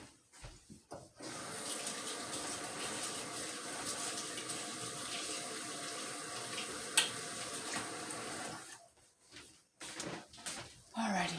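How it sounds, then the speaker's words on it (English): A kitchen tap runs steadily as hands are washed under it, a continuous hiss of splashing water close by that stops near the end, with brief voice sounds around it. "let me wash my hand"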